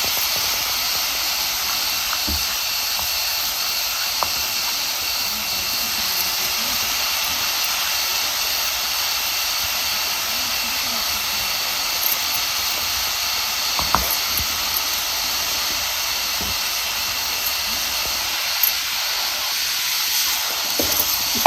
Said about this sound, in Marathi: ही आपल्याला एक जीव परतून घ्यायचा आहे चटणीचा ह्या हिरव्या मिरचीचा